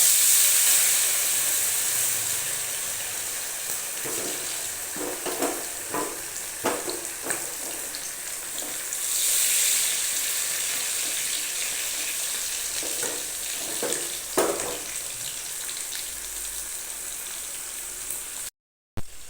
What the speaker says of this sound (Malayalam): എണ്ണ നല്ലോണം ചൂടായി വരുന്നുണ്ട് അതിലോട്ട് നേരത്തെ റെസ്റ്റ് ചെയ്യാൻ മാറ്റിവെച്ച ചിക്കൻ അതിലോട്ട് ഇട്ട് കൊടുക്കാം